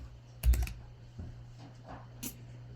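Computer keyboard typing code: a quick burst of several loud, close key clicks at the start, then scattered softer keystrokes and one more sharp tap near the end.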